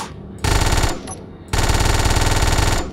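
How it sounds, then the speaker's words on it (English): A Gatling gun Mark II mounted under the nose of a warship in the Space Engineers video game fires in two sustained, rapid bursts, loud and close, with a short pause between them. "And then Gatling gun Mark II."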